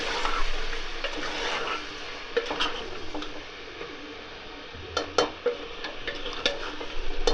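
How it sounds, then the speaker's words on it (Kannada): A paste of ginger, garlic, onion and coriander fries in a pan while being stirred, giving a soft continuous sizzle broken by several sharp scrapes and taps of the spoon against the metal. "ಇದನ್ನು ನಾನು ಇಲ್ಲಿಗೆ ಹಾಕ್ತಾಯಿದ್ದೀನಿ ಪೇಸ್ಟ್ನ. ಅದಾಕಿ ಒಂದು ಒಳ್ಳೆ ಮಿಕ್ಸ್ ಕೊಡಬೇಕು."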